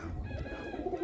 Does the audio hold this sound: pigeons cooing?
yes